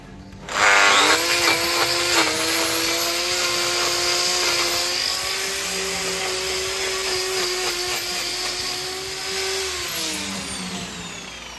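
A power tool whines loudly and continuously while trimming a dairy cow's hoof on a Welsh dairy farm, with a steady high-pitched tone that climbs slightly, then drops as it winds down near the end.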